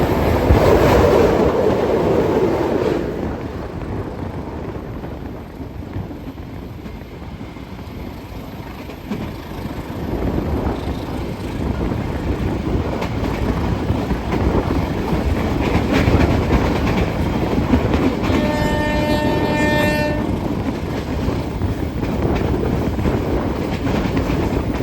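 Rolling rumble and steady clatter inside an economy-class passenger train on the KA Kahuripan in Indonesia, continuous and fairly loud throughout, with a brief tonal whine rising near the end.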